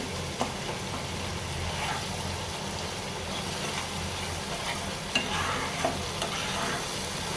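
Roast being stir-fried with nut paste, yogurt, nutmeg and mace in a pan, a low steady sizzle with scraping stirs and a few sharp utensil knocks against the pot, no voices.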